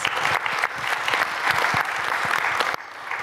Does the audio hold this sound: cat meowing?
no